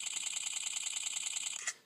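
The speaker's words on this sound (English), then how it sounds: "if you hold down here on the shutter, you take 10 pictures per second" Rapid burst of iPhone 5s camera shutter clicks at about ten per second, a tight even string of crisp, quiet digital snaps lasting under two seconds and then stopping.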